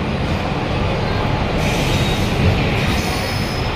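The Palnadu Express, crowded during the Sankranti rush on its Secunderabad to Piduguralla run, rumbles along with a steady, loud roar of rolling wheels and carriage noise heard from inside the train.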